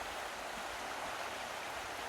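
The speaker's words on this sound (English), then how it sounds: "we follow the River Derwent in the direction it's flowing" River Derwent flowing in the Cumbrian countryside, a steady broad rushing of water, continuous and even with no voices.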